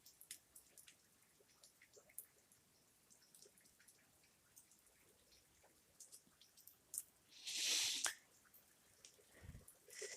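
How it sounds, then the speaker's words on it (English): Rain falls during a night walk outdoors, a faint patter of scattered drips and tapping droplets, with a brief louder rustling swell partway through. "the rain's definitely picking up now"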